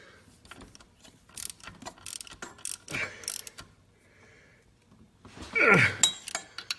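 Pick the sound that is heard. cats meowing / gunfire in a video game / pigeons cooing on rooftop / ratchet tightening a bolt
ratchet tightening a bolt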